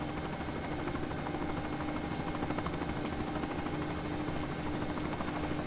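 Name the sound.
helicopter flying overhead, from video game Farming Simulator 17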